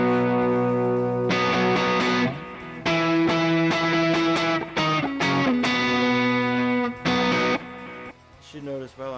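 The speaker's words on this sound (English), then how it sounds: "This is an analog delay pedal with modulation." Electric Strat on the neck pickup through an analog delay pedal with modulation, quarter-note repeats at 110 BPM; sustained lead notes and chords ring with echoing repeats, loud and continuous before thinning near the end.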